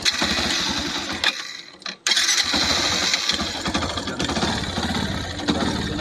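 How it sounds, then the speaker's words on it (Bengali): A faulty vehicle engine runs roughly and loud, dips and nearly dies around the two-second mark when throttled, then catches and keeps running unevenly. "আপনাদের ইঞ্জিনের কাছে সাউন্ডটা শোনাই, গাড়িটা কী প্রবলেম হচ্ছে"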